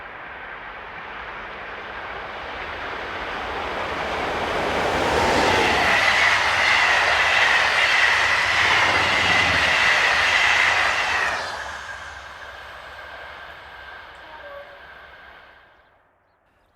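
A locomotive hauling a passenger train in France approaches, roars past with a rising rumble and rail clatter, then fades away into the distance, no voices.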